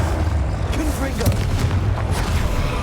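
Blasting spell explosion in Hogwarts Legacy, heard as a dense, continuous rumbling roar of game combat that carries steadily through the whole stretch, with a few brief sharper bursts and no clear single isolated blast.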